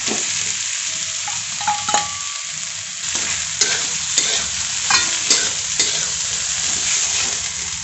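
Potatoes and sago pearls sizzle in a hot pan for sago khichdi while a spoon stirs them, a steady loud frying hiss broken by repeated scraping strokes against the pan.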